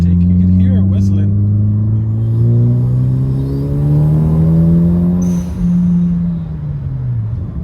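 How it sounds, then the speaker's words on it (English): A Hyundai Elantra N fitted with an SXTH CPLT V2 intake accelerates hard through the gears, its rising engine drone carrying a whistling intake note, loud and close, with a brief dip at a shift. "if you guys want a sound clip of the intake, you can hear it whistling."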